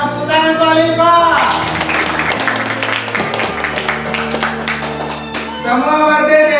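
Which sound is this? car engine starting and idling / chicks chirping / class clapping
class clapping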